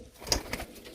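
A pigeon cooing nearby, a couple of short soft coos over quiet background, with no talking.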